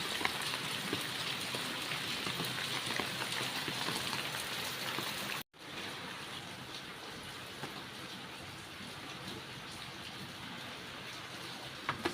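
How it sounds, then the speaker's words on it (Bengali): Heavy rain pours down steadily as a dense, even hiss close by, with a short break partway through before the downpour continues unchanged. "এখন একটু জোরে বৃষ্টি নেমেছে"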